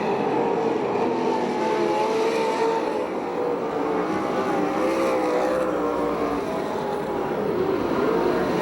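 Passcar stock cars race around the track at Perris, California, their engines a loud, continuous drone with rising and falling whines as several cars pass close by.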